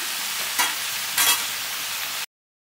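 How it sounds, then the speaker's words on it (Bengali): Turmeric-coated Malabar spinach mixture sizzling in a frying pan while being stirred, a constant hiss broken by two brief scraping bursts of the spoon, close up, before the sound cuts off abruptly. "হলুদ পাউডার দিয়ে দিলাম, ওটাই আমি জল দেবো না, নেড়ে চেড়ে ওটাকে ঢাকনা দিয়ে দিয়ে সেদ্ধ করে নিই।"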